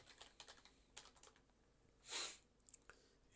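Quick, light keystrokes tapped on a computer keyboard while coding a game in C#, a few scattered clicks and short bursts with one louder press, close and alone in a quiet room.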